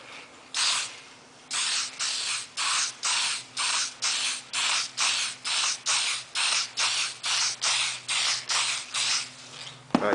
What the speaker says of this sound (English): You're going to spray it from side to side, left to right, right to left, left to right, about 4 or 5 times until it's covered.